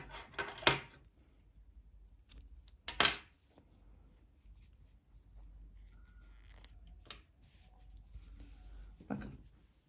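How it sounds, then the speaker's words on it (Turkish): Scissors snip crochet thread for a ruffled baby romper, giving a few sharp, separate metallic clicks spread through a quiet room, with soft handling noises between them. "İpliği kesiyorum."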